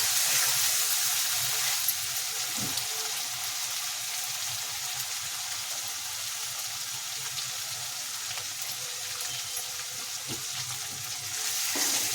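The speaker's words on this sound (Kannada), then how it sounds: "ಈರುಳ್ಳಿ ಎಲ್ಲ ಚೆನ್ನಾಗಿ ಫ್ರೈ ಆಗಬೇಕು" Onions frying in a pan for vangibath, a steady close sizzle and crackle that carries on evenly throughout with occasional soft stirring knocks.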